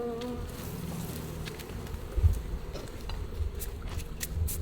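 Honey bees hum and buzz in a steady, dense drone at an open hive with supers of honey stacked above the brood, close by and continuous, with occasional louder passes of individual bees near the listener.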